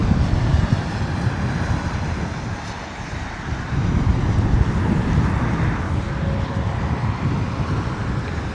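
A British Airways A320 landing at London Heathrow in wet, windy weather produces a broad, low roar that swells and holds, heard through heavy wind rumble on the microphone.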